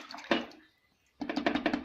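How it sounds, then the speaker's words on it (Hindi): Water is poured into a pressure cooker holding usal curry, in two close splashing bursts separated by a short pause, near and fairly loud with no talk. "हमने इसमें अभी 1 लीटर पानी डाला है।"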